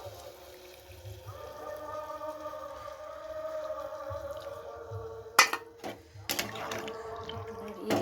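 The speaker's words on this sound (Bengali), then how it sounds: "এর মধ্যে আমি কিছুটা জল দিয়ে দিচ্ছি" Water pours into a cooking pot of potatoes and vegetables for a chickpea-flour curry, a soft steady trickle under a faint tone, followed by a couple of sharp metallic clinks near the end.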